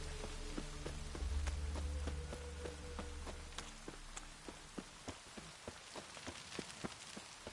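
Steady rain falls in The Witcher video game, a constant wash of drops with scattered sharper patters and occasional hoof-like clops, over a low ambient hum that fades partway through.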